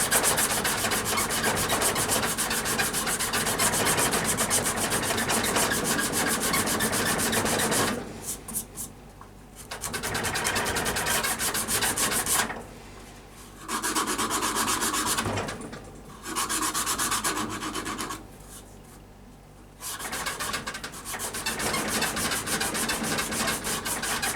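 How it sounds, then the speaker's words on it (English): Sandpaper rubs back and forth over ebony overlays on a hickory pyramid bow, a steady close rasping that runs in long continuous passes broken by several short pauses. "The sandpaper."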